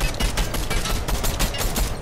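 Rapid bursts of video game gunfire while driving, a steady clatter of shots repeating evenly for the whole stretch, loud and close with no voices over it.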